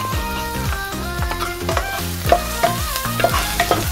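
Garlic fries in olive oil with a constant close sizzle and occasional stirring scrapes, over a steady tonal background of music.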